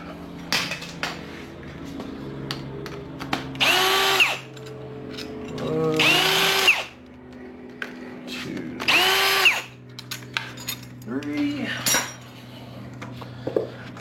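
Power tool whirring in several bursts of a few seconds each while removing the 12mm bolts holding a fuel rail, with metallic clinks between and someone talking in between.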